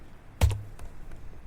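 A few keystrokes tapped on an HP laptop keyboard while entering a command: one firm close click followed by lighter, scattered taps against a quiet background.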